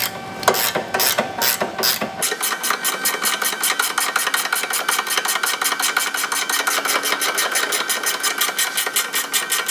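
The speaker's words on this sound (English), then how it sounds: "You're gonna use an 18mm wrench here or a socket." An 18mm ratchet wrench loosens the factory toe link bolt on a 2015+ Ford Mustang, giving a fast, even run of loud, close clicks after a few slower opening strokes.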